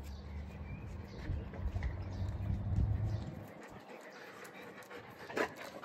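A Rottweiler pants rapidly nearby, a steady breathy rhythm, with some shuffling and a faint whimper-like sound near the end.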